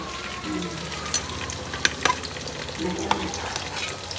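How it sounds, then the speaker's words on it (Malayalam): Chicken fries in a pan at home with a steady, loud sizzle, broken by a few sharp clinks and scrapes as it is stirred; no voices. "ചിക്കൻ ഇങ്ങനെ പൊരിക്കുന്നുണ്ട്"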